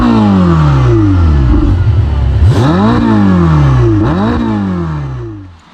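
A Ferrari 488 Spider twin-turbo engine revs up repeatedly, its pitch climbing and falling in sharp sweeps with a raspy, turbo-like whoosh, close and loud.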